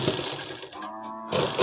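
Domestic sewing machine stitching the sleeve of a college dress, a steady whirring run that breaks off briefly mid-way and then resumes, close and fairly loud with no voices.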